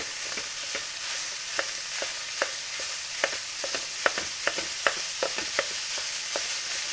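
Minced meat sizzling in a pan with onions that have already browned, for stuffed courgettes, a close, even frying hiss broken by repeated sharp clicks of a utensil stirring and tapping the pan.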